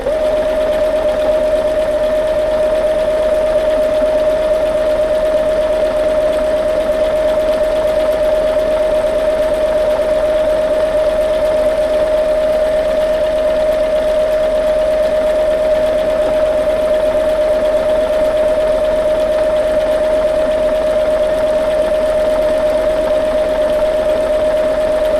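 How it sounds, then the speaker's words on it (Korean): A Lion The Style 50 home sewing machine stitching an automatic buttonhole, running at a steady, fast, continuous mechanical hum with a constant pitched whine, close and loud throughout with no pauses. "원단에 바늘을 꽂고 발판을 밟아 자동 단축구멍을 만들어줍니다"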